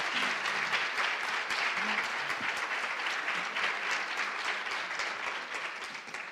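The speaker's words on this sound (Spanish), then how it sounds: "Les damos un aplauso así para empezar." Steady audience applause fills the whole stretch at a jornadas panel on inclusive communication, a dense even patter of many hands, moderately distant and sustained without a break.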